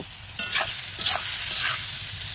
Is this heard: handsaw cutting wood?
no